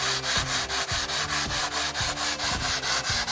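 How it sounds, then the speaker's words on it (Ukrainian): Rhythmic rasping strokes of sanding aerated concrete blocks during wall laying, back and forth about three times a second, close and steady with no voices. "щоб зберігти рівну геометрію ряду, блоки потрібно добре шліфувати"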